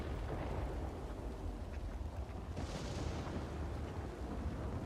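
A thunderstorm in a video game gives a loud, steady, rumbling roar of wind and thunder. It holds throughout with no break, and a brighter, hissing swell rises near the middle.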